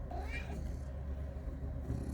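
A pet cat meows a few times, with soft high mews near the start over a steady low background hum and faint household noise.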